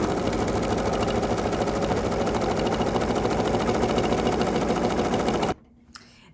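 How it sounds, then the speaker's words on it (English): An embroidery machine stitches a satin cover stitch in berry red thread, a loud, dense, fast mechanical whir and rapid needle chatter running steadily, then stopping abruptly near the end, followed by a faint click. "now it's just going to do our cover stitch, which is a satin stitch"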